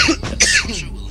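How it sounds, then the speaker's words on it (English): A single short, close cough from a man, a rough burst followed by a brief throaty trailing sound. "I just had to cough."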